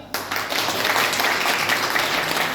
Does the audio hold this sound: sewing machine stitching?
no